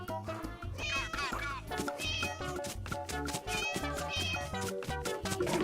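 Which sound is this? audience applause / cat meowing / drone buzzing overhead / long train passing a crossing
cat meowing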